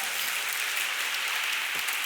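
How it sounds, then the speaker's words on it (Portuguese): Congregation applauding during a Christmas church service, a continuous full wash of clapping from a large crowd, even and sustained. "Alguém pode dar uma salva de palmas ao Senhor Jesus por causa disso?"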